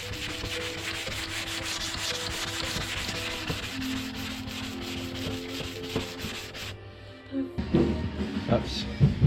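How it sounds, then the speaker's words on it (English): A Suzuki GSX650F motorcycle fairing being sanded by hand, with continuous close rubbing strokes that stop near the end, followed by a few handling knocks. "I've cleaned up this fairing as best as I can, inside and out, and prepping it now to sand it"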